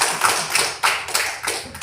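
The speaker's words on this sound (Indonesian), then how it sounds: "Berikan tepuk tangan ya." Classroom applause for a student group, a short burst of scattered hand claps from a small crowd of children, fairly close and uneven in rhythm.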